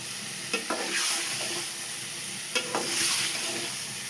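Zucchini curry with salt, red chilies and turmeric sautés in a pan: a bright, steady sizzle close by, with a couple of spatula scrapes and taps recurring about every two seconds.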